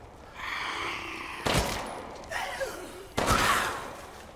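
Video game gunfire in Resident Evil Village: three separate heavy bursts spaced about a second apart, each a sharp loud crack with a decaying tail over a quiet ambient background.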